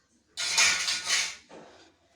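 Dishes and kitchen utensils being washed by hand, with two bursts of clattering, scrubbing and splashing water close by, the first longer and louder, the second shorter and fainter.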